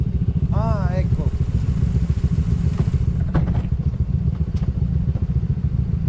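Motorcycle engine running with a loose spark plug cap, a close, rough and steady low chugging with irregular clattery ticks, while a voice speaks briefly over it.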